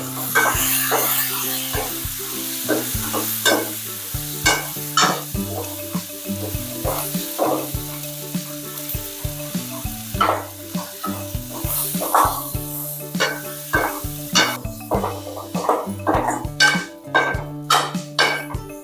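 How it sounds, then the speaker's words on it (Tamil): Onions and tomatoes with turmeric sauté in a pan for a fish curry, a near, low sizzle broken by frequent scraping and clanking of a ladle against the pan in an uneven rhythm, and nobody talks. "இந்த வெங்காயம் தக்காளி வதங்குறதுக்கு கொஞ்சம் மஞ்சத்தூள் சேர்த்துக்கலாங்க"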